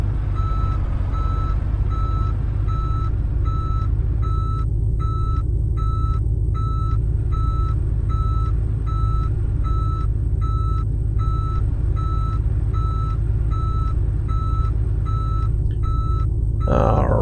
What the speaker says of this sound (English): so we'll back up here to the trailer, hook up